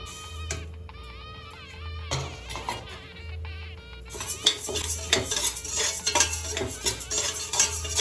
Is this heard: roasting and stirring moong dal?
yes